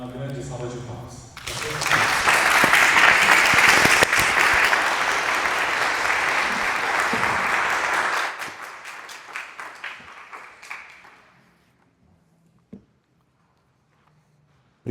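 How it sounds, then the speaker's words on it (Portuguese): A church congregation gives the pastor a big round of applause, loud dense clapping that swells, holds for several seconds, then thins out to scattered claps and near silence. "E que nós possamos saudá-lo com uma grande salva de palmas"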